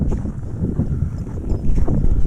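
Gusty wind rumbles against the microphone outdoors, a steady low roar that rises toward the end.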